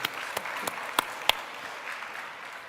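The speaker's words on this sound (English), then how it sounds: "Nice round of applause for them." Conference audience at a plenary session giving a brief, sparse round of applause, scattered individual claps over a faint room murmur, distant and thinning out within a few seconds.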